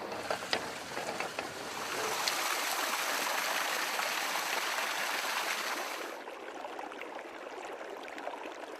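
Water rushes through an acequia compuerta gate on an irrigation channel fed from a river, a steady, close, broadband gushing that swells loudest in the middle and then eases to a softer trickling flow.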